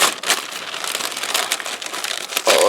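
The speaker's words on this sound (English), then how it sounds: "You will hear a lot of crinkling, especially because this is a paper bag." Paper bag crinkling as it is opened up close, giving sharp papery crackles and rustles in irregular bursts, loud at the start and end, with no talk.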